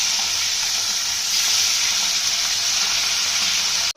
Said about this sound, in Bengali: এদিকে মাছগুলো ভাজা হচ্ছে,